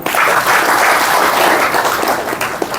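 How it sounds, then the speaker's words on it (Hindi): A seated audience at a Gita study-school gathering claps in sustained, loud applause for the full stretch with no talking over it. "ताली बजाओ भाई।"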